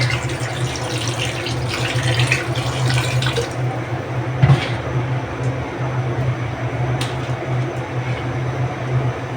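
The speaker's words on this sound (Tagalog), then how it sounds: "Lalagyan ko ng tubig." Water pours from a tap into a pot for boiling chicken feet, a steady rushing splash close by that continues with small shifts in tone.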